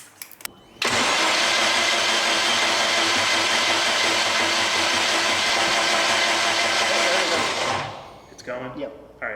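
A Honda K24 engine swapped into a Nissan Cefiro cranks and fires up, then roars loudly and steadily at a high idle for several seconds before dropping off, recorded up close.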